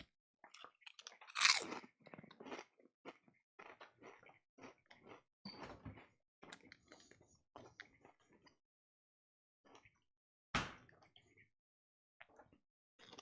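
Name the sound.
crunching and chewing Ruffles potato chips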